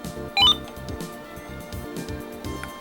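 A RadioShack PRO-136 scanner gives a single short, bright electronic power-on beep, close and clear, over a steady low hum of background noise.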